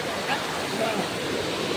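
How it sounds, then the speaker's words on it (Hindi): Khopoli waterfall rushing with steady broadband water noise, a constant roar filling the whole moment without pauses; faint voices may sit beneath it. "चेक करो गाइस वाटरफॉल।"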